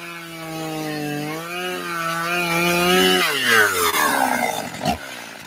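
A chainsaw in a radio advert for a chainsaw shop starts with a rising, revving harmonic whine, then breaks into a loud, ragged cutting buzz that ends on a sharp bang, heard alone with no talk.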